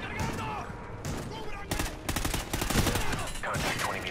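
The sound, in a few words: suppressing gunfire in the video game Call of Duty: Ghosts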